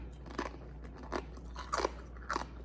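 Homemade lunch meat chips crunch between the teeth in several crisp, close bites spread unevenly over a low steady background hum.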